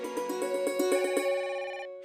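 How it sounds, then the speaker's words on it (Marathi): A telephone rings at night in a Marathi TV serial household, a bright, rapidly pulsing electronic ring that holds steady and loud, then fades out after about two seconds. "अरे तो फोन वाजतोय, घ्या कोणीतरी."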